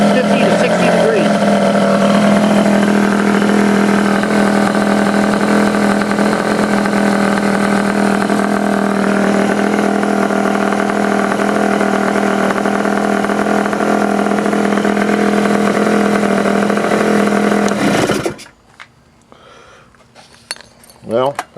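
Honda Elite 50 scooter fitted with a Taida radiator, its small engine idling with a steady buzzing drone close up for most of the clip before cutting off, leaving faint handling noises.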